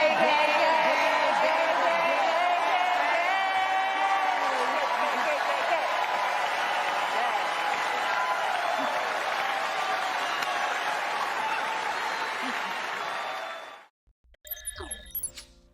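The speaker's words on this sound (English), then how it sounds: "What are these people clapping for?" Audience at the Oscars ceremony applauding and cheering, a dense sustained roar of clapping that fades out near the end, followed by a brief burst of other sound.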